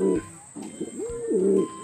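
A pigeon coos close by, a few soft throaty rising-and-falling notes in a short phrase.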